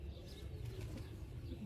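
A sturdy pigeon held in the hand gives faint low cooing with a soft flutter of wings, quiet and close, with no talk.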